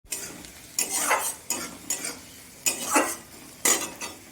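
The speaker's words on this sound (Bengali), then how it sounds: "পেঁয়াজটা আমি এখন লাল লাল করে ভেজে নেব।" Onions frying in a pan for a Bengali fish curry, a quiet sizzle broken by five or six sharp scrapes and clinks of a spatula against the pan as the onions are stirred.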